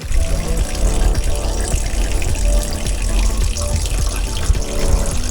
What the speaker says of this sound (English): the water from the kitchen sink coming out. That's how you empty the dirty water.